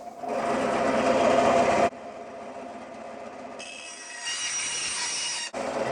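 Power tool cutting an aluminium can to make a DIY alcohol stove, a loud buzzing whine in sustained bursts that stops abruptly, then resumes with a harsher, higher grinding tone, with no talking.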